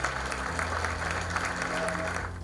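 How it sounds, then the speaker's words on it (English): A board meeting audience gives a round of applause for teachers and the community, a steady wash of clapping at moderate level throughout, with a low hum underneath. "Let's hear a round of applause."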